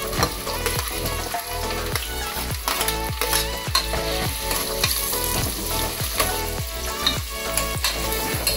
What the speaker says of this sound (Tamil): ஆனியன் நல்லா வதங்கிட்டு இருக்கு. கோல்டன் ப்ரௌனுக்கு வரட்டும்.